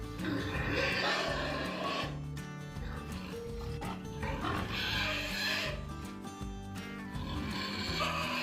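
Large White Landrace sows and gilts on a small pig farm in Mexico, loud overlapping grunts and squeals in bursts, with a dog-like bark or yelp mixed in and no clear speech.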